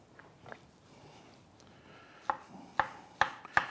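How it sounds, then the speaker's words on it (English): A knife cuts mushrooms on a board for a sauté, giving four crisp, evenly spaced chops near the end that follow quieter board scrapes. "I'm going to cut up these mushrooms for you for saute."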